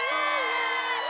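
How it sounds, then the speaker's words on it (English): Loud cartoon crowd shouting and cheering in a children's animated show, a dense sustained roar of many excited voices lasting about a second with no pauses. "The Bartleby will never come back if the crowd is this loud."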